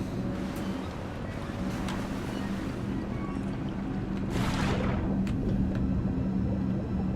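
A manta ray build in the Trailmakers video game moves through water at over 60 km/h, giving a steady, loud rush of engine and water noise. A brief splashing surge comes partway through.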